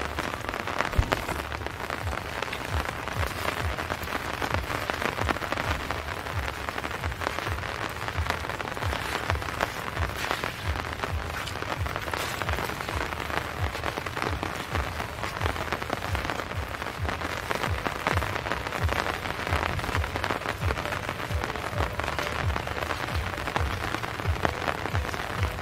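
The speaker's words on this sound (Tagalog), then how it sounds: "walang tigil ang ulan dito sa Bohol. So, ayan nga, hanggang ngayon umuulan." Heavy rain in Bohol pouring steadily onto surfaces and an umbrella, a dense unbroken hiss of drops that stays even and close throughout.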